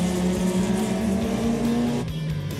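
Race cars run nose to tail into a final bend on a historic racing circuit, engines droning loud and close with steady harmonic tone, one pitch dropping sharply near the end as a driver lifts for the corner.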